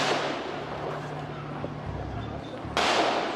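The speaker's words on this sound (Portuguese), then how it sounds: "Houve uma intensa troca de tiros" Intense gunfire from a police operation in the Complexo do Lins, Rio de Janeiro: crackling, rapid shots and bursts across dense outdoor noise, with a louder burst near the end and some voices in the background.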